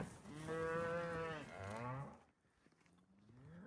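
Cattle on a long, slow desert ranch drive give two drawn-out, tonal moos in quick succession, close and loud, the second trailing off into quiet.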